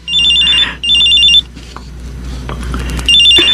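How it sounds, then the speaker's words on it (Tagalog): A cellphone rings in a home during a Filipino radio drama, repeating a bright electronic trill in short bursts with gaps between them, loud and close. "Ma, nagre-ring ang cellphone niyo."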